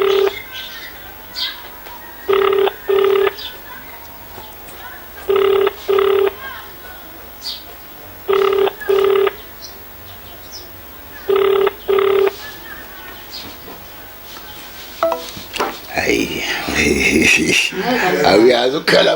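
A telephone rings in repeated double bursts, four times, over a background of talk, followed by louder, busier noise at the end.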